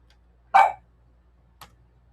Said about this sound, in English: And I have a little helper here barking.